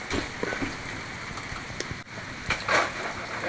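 Rain falling outdoors, a steady faint hiss of drops with a few louder patters, no voices over it.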